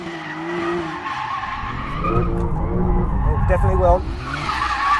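A Porsche 911 Turbo S slides with its tires skidding and squealing over a loud engine roar, and someone talks over it.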